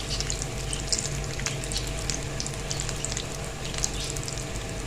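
Bread sandwiches with potato filling frying in hot oil, a steady close sizzle with crackling pops scattered throughout, no talking.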